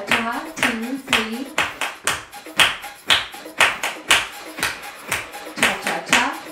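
Hands clap a cha-cha pattern during a cardio groove workout, sharp close claps in a steady repeating rhythm of quick beats, with a voice sounding faintly along underneath.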